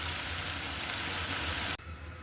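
Broad bean seeds sizzle as they fry in a pan, a steady close hiss of frying oil that cuts off abruptly near the end, leaving a quieter background.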